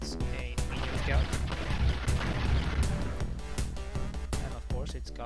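A UFO is shot down in UFO: Enemy Unknown, with dense crashing and blasting game effects running throughout and a voice talking over them.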